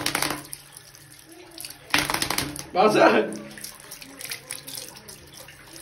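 Water splashes over pet parrots at bath time in short bursts, one stronger pour near the middle, with a person talking throughout.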